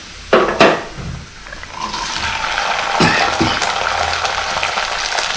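Small shallots dropped into hot oil for a pepper and dried-berry vatha kuzhambu, with a few sharp splashes and spits at first, then a steady, close frying sizzle.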